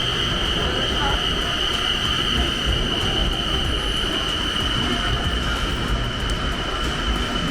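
BTS Skytrain train in Bangkok running between Victory Monument and Asok stations, a steady loud rumble of rolling wheels with a constant high whine throughout, heard from inside the car with faint voices.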